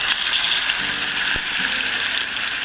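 An Angus NY strip steak sears in hot butter and oil, a loud, close, steady sizzle and crackle broken by a single sharp pop, with no voices.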